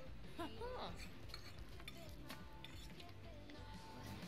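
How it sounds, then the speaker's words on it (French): Dishwashing sounds in The Sims 4 video game, with faint clinking of dishes and cutlery, stirring-like scrapes and a light running-water hiss, very quiet and soft with a brief voice-like chirp near the start. "elle va faire sa vaisselle"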